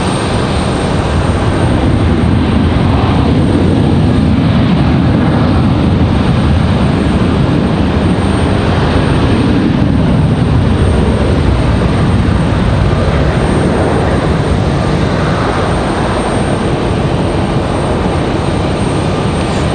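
An American airliner jet at Raleigh Durham airport gives a steady, loud broadband engine roar that lasts the whole stretch without a break, with no voices over it.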